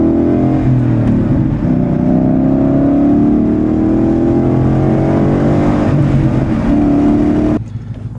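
A 2011 Shelby GT350 engine drones loud and close while driving, its pitch rising and falling through gear changes, then cuts off abruptly near the end.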